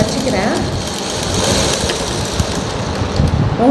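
A motorized sewing machine runs in a tailoring lesson, its needle mechanism giving a steady fast whirring stitch rhythm that holds throughout at close range.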